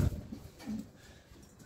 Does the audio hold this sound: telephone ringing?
no